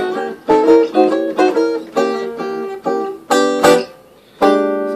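A jazz guitar plays a quick diminished chord lick, with a series of clean, plucked chord stabs in an uneven rhythm, a short pause, and a final sustained chord ringing out.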